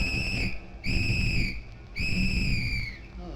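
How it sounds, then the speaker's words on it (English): Two loud, shrill whistle blasts, each lasting about a second, with a short pause between them and faint background noise. "You just blow that whistle good and loud."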